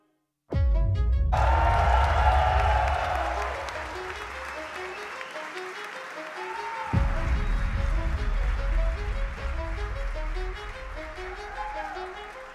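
Rapturous audience applause and cheering fill a large venue as Elon Musk jumps and dances onto the stage at a Tesla event, loud and sustained, swelling again midway with music.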